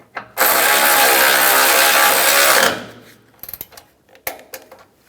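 A ratchet wrench tightens a bolt on a 1997-2001 Honda CR-V headlight bracket in one long, loud, steady burst of rapid clicking, followed by a few scattered knocks and taps of the tool.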